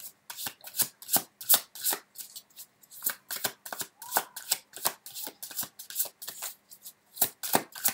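A deck of tarot-style cards is shuffled by hand, giving quick crisp riffling bursts in an irregular rhythm, close and moderately quiet, with brief pauses between handfuls and no talking.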